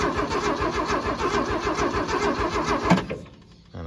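A 1979 Ford F250 engine cranks with a steady, rapid rhythmic churn that runs loud for about three seconds, then cuts off abruptly and leaves near silence.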